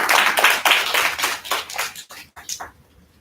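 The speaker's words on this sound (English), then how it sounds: "Round of applause for her, please, as she comes up." Loud clapping from an awards ceremony audience for the St. Lucia Commonwealth essay awards: rhythmic, close bursts of hands that taper off and stop after about two and a half seconds.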